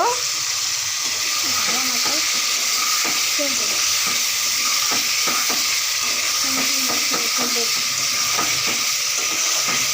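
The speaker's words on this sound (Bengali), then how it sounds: "লোটে বেলে মাছ মশলা দিয়ে দিয়েছি এবারে এটা ভালো করে নাড়াচাড়া করে ঢেকে দেব" Spiced Bombay duck fish frying in a pan while being stirred, a continuous sizzle with repeated soft scraping and clicking of a spatula, some faint background voices beneath.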